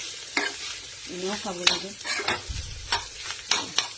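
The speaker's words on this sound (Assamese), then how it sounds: "তিতা কেৰেলা ভাজিছোঁ।" Bitter gourd frying and being stirred in a hot pan, a close, steady sizzle broken by repeated spatula scrapes and clinks, with a brief stretch of talk in the middle.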